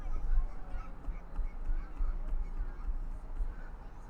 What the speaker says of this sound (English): As some Canadian geese fly over the field.